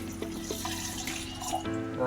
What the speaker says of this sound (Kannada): ಇದ್ರ ಜೊತೆಗೆ ಒಂದು ಲೋಟ ನೀರು ಹಾಕೊತೀನಿ